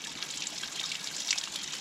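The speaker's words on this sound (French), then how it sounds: "La cascade de Salto do Pegro." Salto do Pegro waterfall on São Miguel in the Azores gives a steady, soft rush of falling water, heard alone and evenly through the short stretch.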